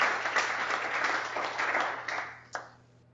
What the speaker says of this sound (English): Quick round of applause and thanks to them for sponsoring the event tonight.